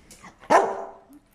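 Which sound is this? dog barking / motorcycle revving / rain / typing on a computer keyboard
dog barking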